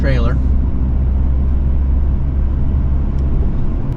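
A Ford Ranger with a four-cylinder engine and five-speed manual transmission runs in third gear on a highway exit ramp, a loud steady low engine and road drone throughout, with a voice briefly heard at the start.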